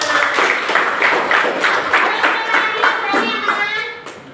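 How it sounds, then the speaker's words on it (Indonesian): A classroom audience gives a round of applause for a student who volunteered, many hands clapping in a lively rhythmic burst close by, tapering off near the end. "tepuk tangan untuk Muna"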